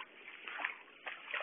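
Feet wading through shallow water in a flooded farm field, with soft sloshing splashes coming in uneven steps, faint and close, under a narrow, muffled recording.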